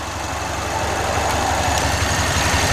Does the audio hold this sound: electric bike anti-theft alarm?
no